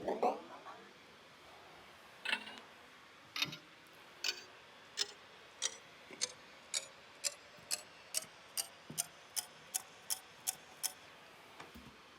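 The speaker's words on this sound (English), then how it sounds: "at the very bottom, I have this clock sample, but I've sped it up using this tool here." A sampled clock tick starts slow and speeds up to normal tempo, the clicks spaced widely at first and then coming closer and evenly faster, crisp and dry in an electronic pop production.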